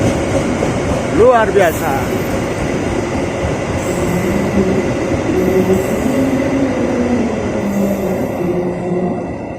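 Sri Tanjung passenger train departing Yogyakarta station, a loud, steady rumble of rolling wheels with a brief rising squeal near the start, heard close up with a short spoken exclamation.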